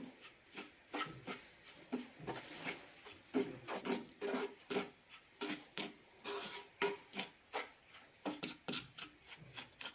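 Moong dal and milk powder mixture stirred in a pan off the heat for laddu, a rhythmic series of close scraping and rubbing strokes with steady beats and no talk.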